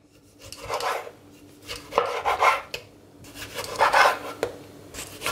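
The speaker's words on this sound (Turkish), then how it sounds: "İkinci domatesi de kesiyorum." A knife slicing through a tomato on a board during omelette preparation, heard as several short rasping cuts in bursts, close and fairly clear, with no talking.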